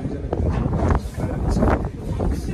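Strong mountain wind in Upper Mustang buffets the microphone with a loud, continuous low roar and gusting rumble that holds steady throughout.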